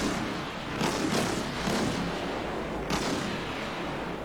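Naval artillery fire in the video game World of Warships, a dense continuous roar with a few stronger booms rising out of it.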